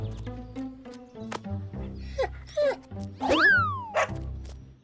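A cartoon dog yips and whimpers in short, high squeaky bursts and sliding whines over a busy musical background, with one long falling cry near the end.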